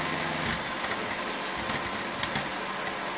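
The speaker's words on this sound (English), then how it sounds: "You can hear it changes the pitch of the motor" A tap-water-powered generator powering a small LED nightlight runs under electrical load, giving a steady whirring motor hum with a continuous hiss that holds through the whole stretch.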